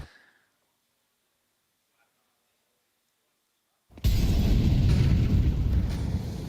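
A grenade blast in Counter-Strike on Dust 2 hits with a sudden loud boom after near silence, followed by a sustained, heavy rumbling roar that stays loud to the end, with some voice mixed in.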